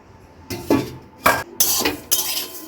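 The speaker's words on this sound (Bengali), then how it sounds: "কড়াই এবার মুগ ডালটা একটু হালকা করে ভেজে নেব।" A metal spatula scrapes and clinks against a wok while dry roasting mung dal, in several short, loud bursts, with quiet gaps between strokes.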